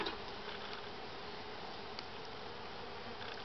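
Honeybees buzz continuously during a beehive inspection, a close, even drone of many insects with no talking.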